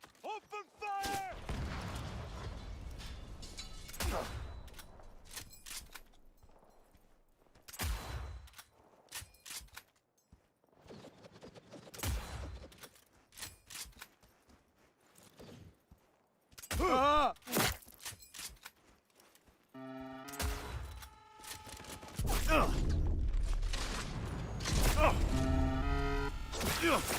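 Gunfire in the shooter game Cyberpunk 2077, heard as scattered bursts of sharp shots and impacts separated by quieter gaps, growing denser and louder toward the end.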